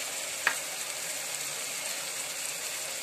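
Ground spices such as Kashmiri red chilli and turmeric frying in a pan for pav bhaji give a steady, fairly faint sizzle, broken by one brief sharp clink near the start.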